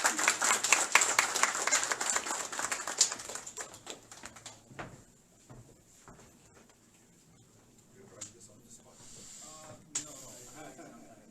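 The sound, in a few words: audience applause for Shubham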